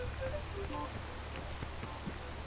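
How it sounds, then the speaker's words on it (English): Rain falls steadily in the video game PEAK, a soft, even patter of drops on surfaces, faint and continuous with no voices. "I'm gonna wait for the rain to stop"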